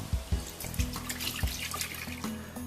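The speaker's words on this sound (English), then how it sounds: "Just pour it straight in." Chocolate gummy jello cake mixture pours into a cake tin, giving soft liquid glugs and splashes with a few low plops and a trickling sound, close by, with no voices.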